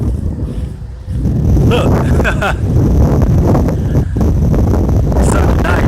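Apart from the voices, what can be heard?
wind blowing outdoors near a tree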